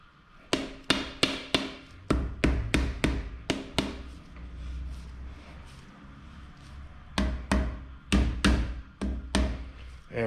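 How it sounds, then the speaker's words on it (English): A hammer strikes a part down during bottom-end assembly of a GM L36/L67 3800 V6 engine with ARP hardware. It lands sharp, close metallic blows in quick bursts of four or five, separated by a quiet pause. "hammer this down a bit more"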